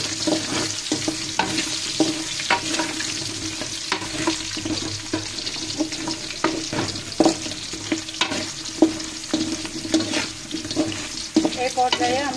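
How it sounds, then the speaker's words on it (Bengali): Potato pieces fry in hot oil for a biryani, a loud continuous sizzle broken by repeated scraping and clatter as a spoon stirs them around the pan, close up with no talking. "এর মাঝে দেখুন আমার আলুটা ভাজা হয়ে গিয়েছে"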